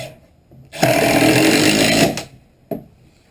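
A power drill whines close by for about a second and a half as it drives a screw into wood during an off-grid cabin build. A short clunk follows and no one speaks.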